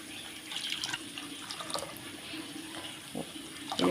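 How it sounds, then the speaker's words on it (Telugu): Water poured into a smooth, lump-free besan batter for a besan curry, a close, steady trickling splash that comes and goes, fairly soft, with no talking. "ఇలా గడ్డలు లేకుండా కలిపాక వాటర్ వేసుకోవాలండి."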